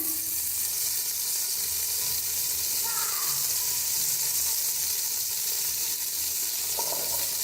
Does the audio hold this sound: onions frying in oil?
yes